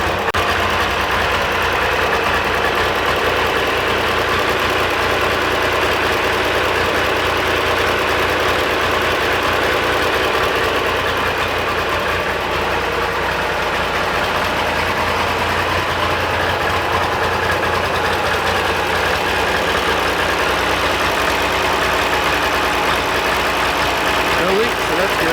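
A vehicle engine idles steadily just after being started, a continuous low rumble holding at an even level throughout with no pauses or revving.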